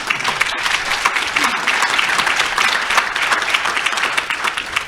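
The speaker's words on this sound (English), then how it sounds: "Let's give them a round of applause, shall we?" Sustained applause from a live audience after a performance, a dense steady wash of many hands clapping at even loudness for the full stretch, with no voices standing out.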